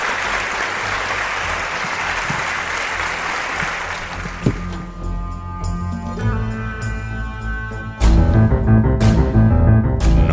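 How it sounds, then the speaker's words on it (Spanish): Dense audience applause for a guest on a late-night radio program about the paranormal, fading after a few seconds as music takes over and swells louder near the end. "Milagros Álvarez Sosa, os pido un aplauso para ella"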